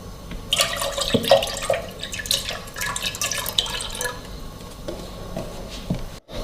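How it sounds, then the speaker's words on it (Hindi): Milk poured into a pan for a custard fruit and biscuit trifle, a close, uneven liquid patter and splashing that runs for several seconds, with no talk. "सबसे पहले हम पैन में दूध डालेंगे।"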